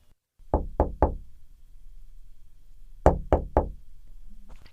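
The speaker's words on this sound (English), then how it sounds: "James knocks on Mr. Barnes' door and enters his office" Knuckles rap on an office door in two separated bursts of three sharp, close knocks, crisp and evenly spaced, with quiet room tone between them.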